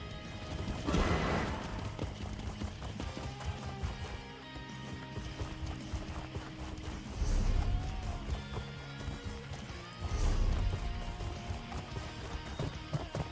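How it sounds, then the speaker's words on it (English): Steady hoofbeats of a horse galloping in the game The Elder Scrolls Online, with background music and effects; two louder bursts stand out partway through. "just rode a horse up a watchtower"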